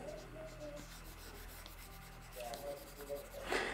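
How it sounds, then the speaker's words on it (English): Marker being rubbed off a board in short scrubbing strokes, quiet and close, ending in a louder final swipe. "I will erase it"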